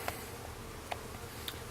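Honey bees hum around an outdoor hive, a soft low drone with a few brief nearby passes over faint background.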